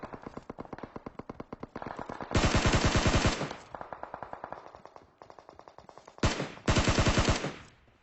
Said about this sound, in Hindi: एक बंदा ऊपर खड़ा हुआ था कंटेनर पे, आगे की तरफ गोलियां चला रहा था